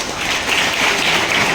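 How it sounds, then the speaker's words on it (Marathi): A room of schoolchildren claps together during a police awareness session at a school, producing a dense, steady burst of applause that holds at an even loudness throughout. "ज्यांनी हात वर केला नव्हता त्यांनी त्यांच्यासाठी टाळ्या वाजवा"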